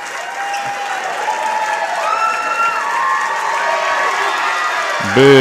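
A crowd claps steadily and loudly at a Lyon County boys high school basketball game against Caldwell County, with scattered cheers over the clapping and a brief voice near the end.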